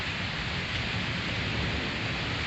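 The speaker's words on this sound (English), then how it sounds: "Then came the rain. And now we've got this thunder and lightning, which is quite impressive." Steady hiss of heavy rain falling during a thunderstorm with lightning, after strong wind has eased; a dense, unbroken wash of sound close by, with no distinct thunderclap standing out.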